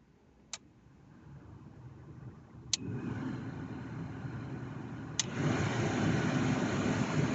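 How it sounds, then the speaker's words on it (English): A Renault Twingo heater blower fan whooshes into life after its resistor is replaced, stepping up through speeds in three stages, each marked by a sharp click and a louder, fuller rush of air. "we'll connect the battery back up and just see if the fan works"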